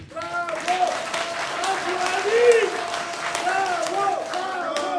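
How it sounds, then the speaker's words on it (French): A rally crowd applauds for the president of the Republic at a political meeting, the steady clapping mixed with shouts and cheering voices that rise and fall. "Applaudissez fortement le président de la République."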